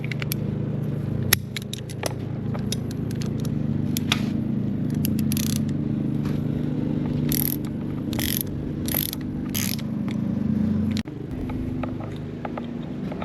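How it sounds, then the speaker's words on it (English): Close metallic ratchet clicks in short bursts from a 6-point 18mm socket loosening a bolt on a Mercury Optimax outboard air compressor, over a steady low background hum. "Use a 6-point socket so you don't round the edges off on it here."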